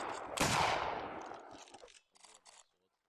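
A musket volley fired by a 33rd Regiment of Foot line in an Anglo-Zulu war video game, one loud crashing blast that rolls off over a second, followed by brief talk.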